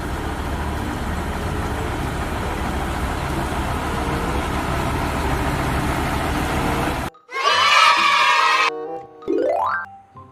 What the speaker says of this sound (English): Water tank fire truck.